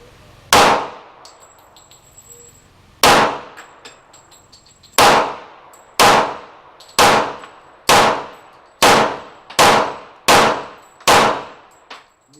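A Taurus PT145 pistol fires low-powered Champion ammunition outdoors: nine sharp, loud shots with ringing tails, spaced unevenly at first and then in a quicker, steadier rhythm, with no speech between them.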